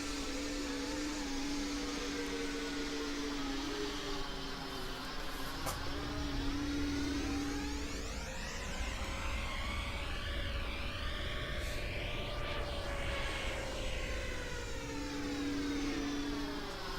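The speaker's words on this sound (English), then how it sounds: "Engine sounds really weird in replays." Continuous droning aircraft engine noise in a Microsoft Flight Simulator X replay, with a steady tone that slowly rises and falls in pitch, sounding synthetic and uneven, with no voices.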